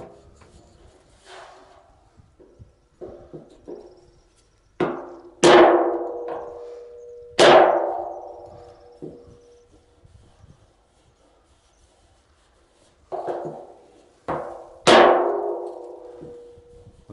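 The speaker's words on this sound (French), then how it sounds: "j'ai pris un marteau plus petit pour pas tout défoncer" Small hammer tapping a dent in a car body panel, working it down with a beech wood block: sharp metallic blows ring out in irregular clusters with quieter light taps between, close and loud, with no talking.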